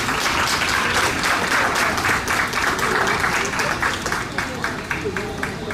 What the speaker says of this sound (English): A big round of applause for John Morgan.